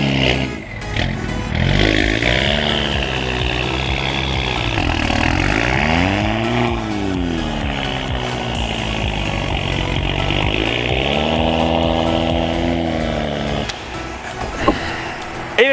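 Toyota Supra stuck while attempting donuts: the engine revs loudly and continuously, rising and falling in long sweeping surges with a raspy buzz, heard close and alone.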